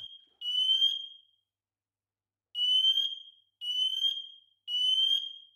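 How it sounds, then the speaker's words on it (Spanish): A loud, high-pitched electronic alarm from a Meross smoke detector sounds in long beeps, one steady tone followed by a pause and then three more beeps in quick succession. "Cuando este detector de humo detecta eso, humo emite una alarma muy sonora."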